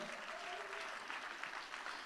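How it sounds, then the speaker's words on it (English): An audience applauding at a 2024 children's aid charity benefit auction: a brief, fairly soft, even patter of clapping from a crowd. "let's get a big round of applause for those"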